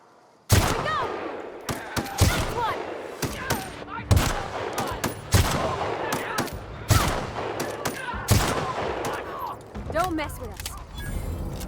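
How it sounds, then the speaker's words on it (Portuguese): Gunfire from a new weapon in the video game The Outer Worlds, repeated loud shots in bursts with sharp onsets and ringing tails, separated by brief gaps, with someone talking over the action. "Só ficar de longe dando tiro"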